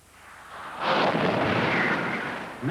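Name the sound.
whaling harpoon gun firing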